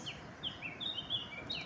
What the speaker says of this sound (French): J'espère que vous entendez quand même les oiseaux.